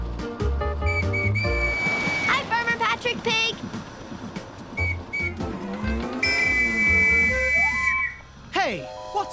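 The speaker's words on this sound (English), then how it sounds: "That other whistle is causing big traffic problems." A whistle blows repeatedly amid a busy, cartoonish scene, its shrill tones sliding and repeating against music and voices that talk over much of it, with traffic blamed on the whistling.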